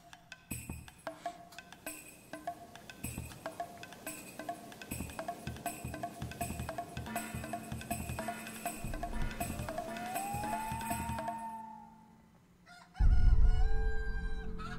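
A chicken clucks in short repeated bursts and then lets out a long rising crow, fairly close and alone, before a louder burst of other sound cuts in near the end.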